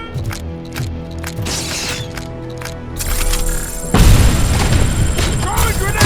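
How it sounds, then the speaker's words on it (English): A frag grenade explodes in RoboCop: Rogue City, a heavy boom rolling out amid ongoing combat noise and gunfire, with a loud rumbling burst near the end. "Frag incoming!"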